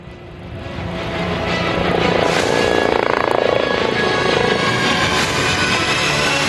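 An HAL helicopter flies a solo air show display at Aero India 2023 in Bengaluru, its steady rotor and engine roar loud and continuous, swelling slightly as it passes overhead.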